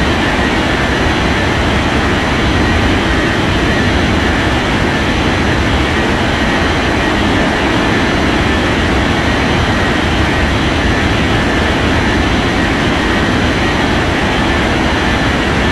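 An airliner's jet engines roar steadily in an air traffic control game as it takes off from runway 05, a dense, constant rumble lasting throughout with no pauses.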